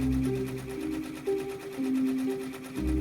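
An embroidery machine with a large hoop stitches the seams of a plushie's head and body from fabric, making a rapid mechanical whirring punctuated by shifting motor tones, close and steady throughout.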